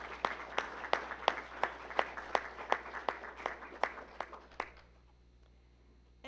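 Scattered audience applause at a high school learning center commencement ceremony, a dozen or so distinct claps in a loose rhythm at moderate distance, thinning out and fading into quiet room tone near the end.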